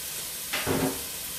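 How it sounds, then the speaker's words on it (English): Chopped onion hits olive oil heated over medium in a pan, giving a short, soft burst of sizzle that fades within a second. "First thing we're going to do, add the onion."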